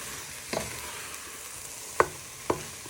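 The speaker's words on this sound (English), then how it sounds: "You want to stir these so they go nice and soft." Tomatoes and their juice frying in a pan for Moroccan chicken, a soft steady sizzle under three distinct scraping stirs or utensil taps, close and quiet, with no talking.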